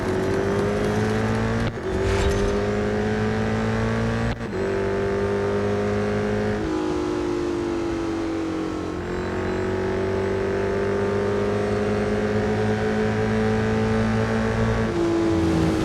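Ford Shelby GT500 engine in the racing game Real Racing 3, a loud sustained high-revving drone that holds near flat out, broken by brief gear-shift dips, with no talk.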